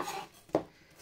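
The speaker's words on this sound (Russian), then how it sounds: "такими кубиками нарезаем всю капусту" Sharp knife chopping through white cabbage into cubes on a cutting board, two crisp thuds about half a second apart following a softer scraping sound.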